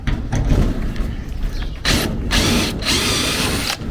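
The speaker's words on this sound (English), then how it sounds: "Let me go run that drill through there." A power drill runs through the thin metal wall of a shed while a hasp is fitted, a loud close grinding and rattling whir in bursts with brief pauses between them.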